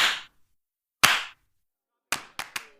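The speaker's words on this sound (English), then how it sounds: "Everybody, everybody, clap those hands!" Hand claps from a crowd in a floating city ring out in short sharp bursts: one long clap at the start, another about a second later, then three quick claps near the end.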